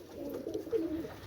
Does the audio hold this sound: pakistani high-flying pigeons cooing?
yes